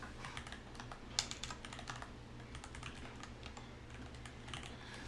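Rapid keystrokes on a computer keyboard while text for an institution's name is entered in an AutoCAD title block, steady close clicking with one sharper tap, over a low constant hum.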